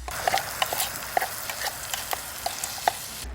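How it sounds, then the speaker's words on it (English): Chopped onions sweat with browned sausage in a camp cooking pot outdoors, giving a steady soft sizzle broken by scattered light clicks and scrapes of stirring, close and alone without talk. "Once you've browned off your sausage, we start adding other ingredients. Onion time. Let those sweat out for a couple of minutes."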